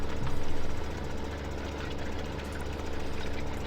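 A tractor engine runs in Farming Simulator 2015, a steady low rumbling drone with a slight swell at the start, continuous and close, with no talk.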